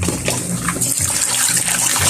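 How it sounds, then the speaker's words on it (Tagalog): Water gushes steadily into a sow's feed, a close, continuous splashing pour lasting a couple of seconds with no talking over it. "Lagyan natin ng tubig."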